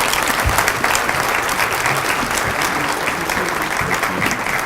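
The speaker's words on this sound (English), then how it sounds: "Give Kay Norton a round of applause for her leadership over so many years here at UNC" An audience at a University of Northern Colorado teacher event applauds steadily, a dense wash of many hands clapping from start to finish with no voices on top.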